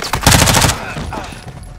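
Rapid automatic gunfire in Call of Duty: Modern Warfare II, a loud close burst of shots lasting under a second, followed by fainter echoing shots and ambient noise.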